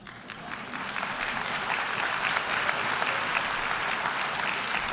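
Sustained audience applause from a crowd at a public address, steady dense clapping that swells slightly and holds at a moderate, fairly near level throughout.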